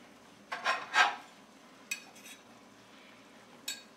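A spatula stirs turkey fricassee in a pan, giving a few soft scraping strokes near the start and a couple of lighter scrapes later over a quiet background.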